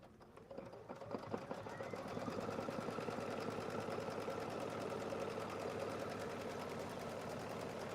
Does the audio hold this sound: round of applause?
no